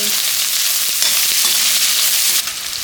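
Onions, green chillies and spices fry in a pot with a loud, continuous sizzle and a few soft stirring clatters, heard up close with no talking.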